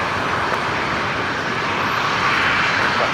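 Aircraft landing on runway 19 left at Brisbane Airport, a steady broad jet engine roar, loud and continuous throughout without any voices.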